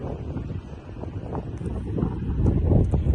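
Steady gusting wind on a beach in the Algarve or Lisbon area buffeting the microphone, a rough low roar that swells and grows louder toward the end.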